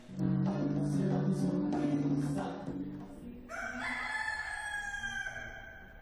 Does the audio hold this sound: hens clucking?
yes